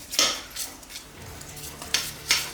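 Jalapeño popper corn dog batter is mixed in a bowl, with a few sharp utensil taps and scrapes against the side, close and intermittent, and no voices.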